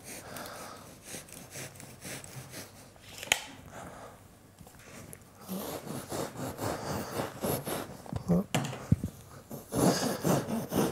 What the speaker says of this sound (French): Je vais utiliser un couteau à isolant et je vais venir découper mon morceau de laine de verre.